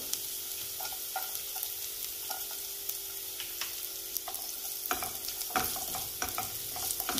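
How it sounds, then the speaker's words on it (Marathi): Garlic sautés in a pan on high heat, a steady broadband sizzle running throughout with scattered scraping taps from stirring, growing busier and louder toward the end. "लसूण थोडासा परतून घेऊया।"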